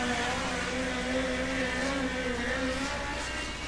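USAC midget race cars at speed on the Red Dirt Raceway dirt oval during national qualifying, a loud, steady engine drone with a sustained high whine holding pitch and slowly shifting, no talking.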